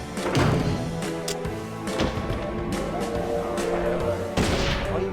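Cannon fire in the video game Fragile Ball: a series of loud booming shots and thuds at irregular intervals over dense game sound, with a sharp burst near the start and another toward the end.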